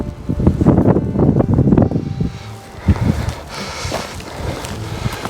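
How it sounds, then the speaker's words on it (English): Wind gusting across a foggy winter moor on Dartmoor, buffeting the microphone with a loud, continuous low rumble that swells and eases in gusts, with no talking. "It's also quite windy"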